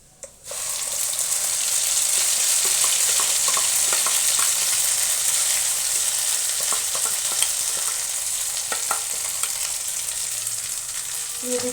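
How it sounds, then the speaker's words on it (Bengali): Green pea paste for kachori filling sizzles in a kadai while a spoon scrapes and stirs it, a steady frying hiss with repeated clinks and scrapes, close and alone. "এই কড়াইশুঁটির পেস্টটা দিয়ে দিচ্ছি।"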